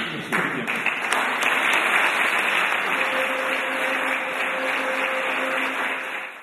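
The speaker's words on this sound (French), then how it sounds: "je crois qu'on peut applaudir" An audience at a church community gathering breaks into sustained applause, a loud, dense wash of clapping that holds steady with a faint hum beneath it, then fades slightly at the end.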